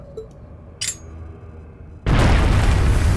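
A bomb goes off in the video game Trails of Cold Steel: one sudden loud boom after a quiet stretch, then a dense roaring rumble that keeps going to the end.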